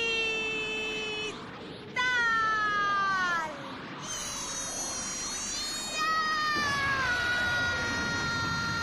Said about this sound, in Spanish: Le pisaron la cola a un gato.